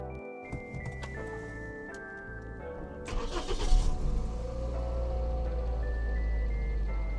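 A car engine cranks with a Gearo GE0101 jump starter and turns over, then settles into a steady low idle, with dashboard chimes ringing before and after.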